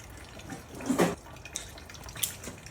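Gasoline dribbling from a go-kart fuel tank onto a garage floor, a faint splashing trickle with a few louder spatters and drips, no voices.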